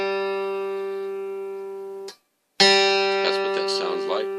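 A guitar's third string, the G, is plucked and rings as a sustained tone during tuning, decays, is briefly cut off, then rings again more brightly while a voice talks over it.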